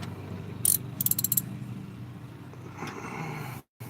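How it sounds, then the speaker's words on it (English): A ratchet works on bolts on a truck, giving a quick rattle of ratcheting clicks followed by a second, longer clicking burst over low background hum. "I'd hope if I had the ratchet the right way. Right now I'm popping all the bolts I can get too loose"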